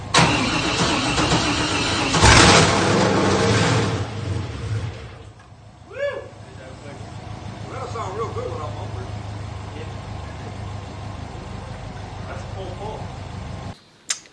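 Cammed 6.3L V8 swapped into a BMW M3 E46 fires up loud and rough, then settles into a lumpy, uneven idle with a few sharp blips before cutting off abruptly near the end; people talk faintly underneath.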